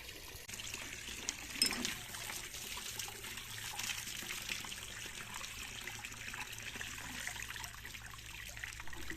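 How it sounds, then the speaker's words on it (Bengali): Water trickles and pours steadily into a container in a home while preparing for Saraswati Puja, a continuous soft splashing stream with a brief louder splash near the start, no talking. "শুধুমাত্র জলটাই ভরলাম"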